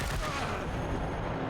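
A regular gunshot in the video game Wasteland 3, heard as a dense, noisy burst of gunfire that fills the brief moment, loud and close.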